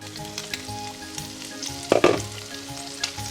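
Continuous crackling sizzle of giblets frying in a pan, with brief scraping stir sounds midway and a faint hum underneath.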